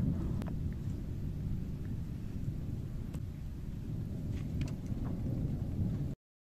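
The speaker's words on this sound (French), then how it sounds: "c'est l'orage qui part" Thunder from a departing thunderstorm rumbles as a continuous low roll lasting several seconds, with wind buffeting the microphone and a few sharp crackles, until the sound cuts off abruptly.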